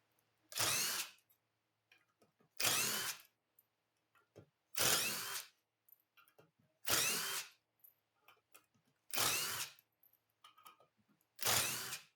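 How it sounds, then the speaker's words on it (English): A power drill backs screws out of the face plate of a turned wooden bowl resting on a lathe bed, six short loud whirring bursts evenly spaced with quiet gaps and faint clicks between them. "We're going to take all these screws out."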